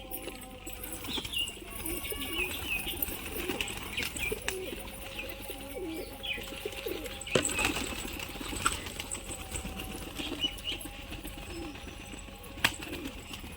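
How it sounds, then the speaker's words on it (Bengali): Pigeons released from a coop, soft repeated cooing and scattered chirps with occasional wing flaps, faint and at moderate distance against a quiet outdoor background. "তো ফাইনালি সব পায়রা ছাড়া হয়ে গেল"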